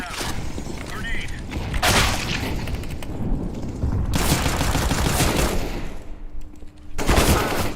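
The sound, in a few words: grenade thrown and exploding amid gunfire, from a video game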